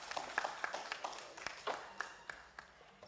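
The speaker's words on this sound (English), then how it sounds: "Let's give him another warm round of applause." Scattered applause from a small audience at the Barbados Secondary Schools' Athletics Championship 2025 launch, individual claps distinct and uneven, quiet and somewhat distant, thinning toward the end.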